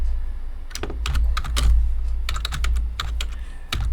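Keys clatter on a computer keyboard in quick irregular bursts, separate taps and short runs with brief pauses, close and clear over a low background hum.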